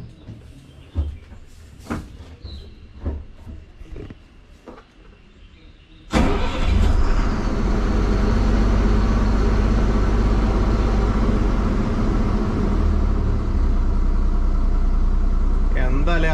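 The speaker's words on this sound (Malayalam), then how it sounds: "ഇനി നമുക്ക് വണ്ടി ഒന്ന് സ്റ്റാർട്ടാക്കാം." A 2010 Ashok Leyland Cheetah 60-seat school bus diesel engine cranks and fires at about six seconds after faint clicks and handling noises, then settles into a loud, steady, rumbling idle that fills the rest of the clip.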